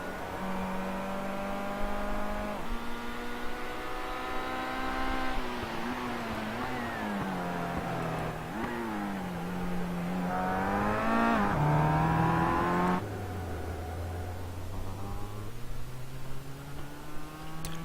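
Race cars on a track, including a Kia and a single Mazda MX-5, pass with steady engine drone and shifting revs, gear changes audible as pitch drops, fairly loud throughout with no talk.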